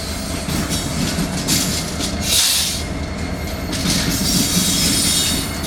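An FEC freight train of containers and rock hoppers rolls past up close, a loud, continuous rumble of rail cars with wheel squeal and clacking rising and falling throughout.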